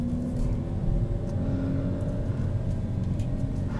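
A 2021 Kia Forte with a manual transmission pulls away from a stop, its engine a steady low rumble and hum that holds even throughout, heard alone from inside the car.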